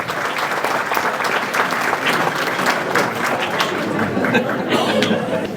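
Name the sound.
applause at a speedway banquet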